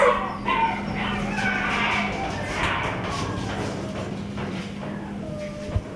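Sick puppies in a shelter's isolation area bark and whimper, a busy mix of yips and cries near and far with a constant background hum and a thump near the end.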